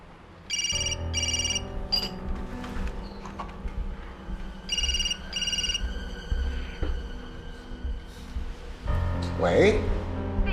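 A telephone rings with repeated bursts of bright electronic trilling, two rings early and two more midway, over a steady low hum and background noise in a tense indoor scene.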